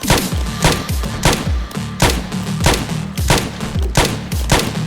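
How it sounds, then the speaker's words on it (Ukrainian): Rapid bursts of automatic rifle fire shooting at zombies in the survival game Project Zomboid, loud and close, firing in repeated volleys with short pauses between them. "То схопив автомат і почав гасити цю нечість."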